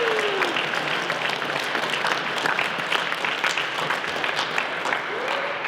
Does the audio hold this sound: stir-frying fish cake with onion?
no